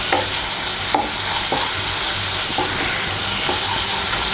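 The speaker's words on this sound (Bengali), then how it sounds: "এই দেখুন, মিশিয়ে নিয়ে হালকা একটু ভেজে নিয়েছি" Ginger paste and ground spices sizzle lightly in a pan under a constant hiss, while a spoon scrapes and stirs in several distinct strokes spaced about a second apart.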